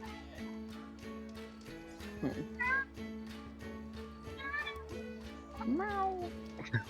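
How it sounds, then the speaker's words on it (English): A cat meows a few times inside a restaurant, rising wavering cries over steady room noise and a low background hum. "why is there a cat in this restaurant?"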